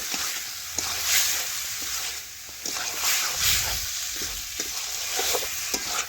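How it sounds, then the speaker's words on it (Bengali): Young jackfruit frying and being stirred in a pan for prawn curry, with a steady sizzle under repeated scraping stir strokes, close and fairly loud throughout, with no talk. "তো দেখুন বন্ধুরা এইভাবেই নাড়তে হবে বেশ কিছুক্ষণ ধরে"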